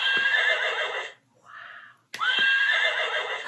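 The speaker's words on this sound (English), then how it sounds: "Touch the horse's mane to hear her neigh." Horse, a mare with her foal, neighing in two loud shrill whinnies separated by a brief softer breathy sound, close and clear.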